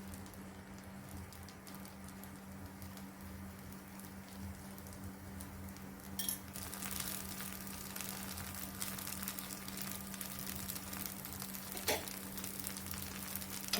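Mudakathan leaf dosa cooks in a little oil on a pan, giving a steady soft sizzle that brightens partway through, with no voices over it.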